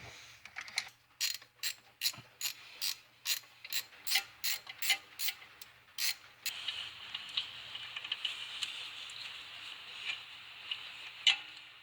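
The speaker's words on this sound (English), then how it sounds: "You should be able to get a 19 on it with just a regular ratchet." A hand ratchet loosens a long transmission bolt on a 1997 Honda Civic automatic, giving quick, evenly spaced clicking strokes up close, then a steadier, denser whirring ratchet sound as the bolt spins out.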